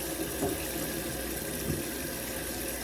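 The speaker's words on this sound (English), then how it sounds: "let me wash my hands" Tap water runs steadily while hands are washed under it, a constant close hiss with faint splashes and no speech.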